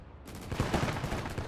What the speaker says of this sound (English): is there an anti-tank rifleman just shooting at me over here?